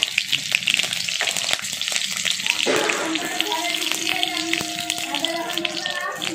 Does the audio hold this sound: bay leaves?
yes